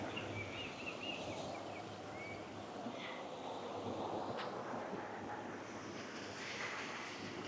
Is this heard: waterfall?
yes